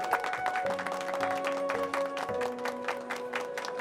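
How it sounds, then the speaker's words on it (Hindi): A studio audience applauds as a guest is welcomed on stage, steady clapping under music with sustained tones and a few chords, moderately loud throughout. "आइए एहसान साहब, बहुत सारी तालियां होनी चाहिए इनके लिए"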